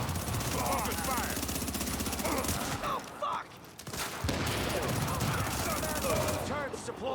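Shotgun and automatic gunfire in a video game firefight rattle on densely and continuously, with a short lull partway through, loud and close, mixed with in-game voices and effects.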